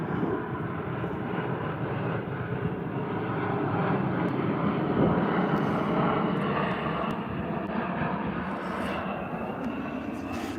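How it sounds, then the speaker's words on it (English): A big military plane drones loudly overhead, a steady broad engine roar that swells slightly in the middle and holds throughout. "Big military plane."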